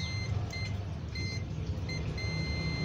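A multimeter's continuity buzzer sounds while probing a coil on a shorted mainboard. It gives a series of short, fairly faint electronic beeps at irregular intervals over a quiet background hiss.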